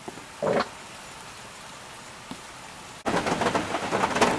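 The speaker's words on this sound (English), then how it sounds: "since it's decided to rain a bit" Rain falls at a mountain camp, faint and patchy at first, then swelling abruptly into a dense, steady patter that fills the rest of the moment, with no talking.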